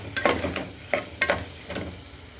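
Street-style kurma masala is sautéed and stirred in a pan, with a soft sizzle under a few distinct scraping strokes of a spoon at irregular intervals, close up and without talking.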